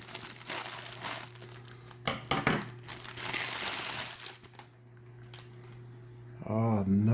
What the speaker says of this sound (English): I went to get scissors.